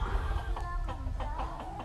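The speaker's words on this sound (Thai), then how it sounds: "ตรงนั้นจะเป็นไก่รวมนะครับ" Chickens cluck in a shared poultry enclosure on a mixed farm, with a steady run of soft, close clucks over low background rumble.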